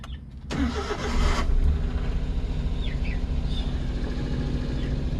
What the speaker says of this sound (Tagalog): i-start ko ngayon yung sasakyan okay start natin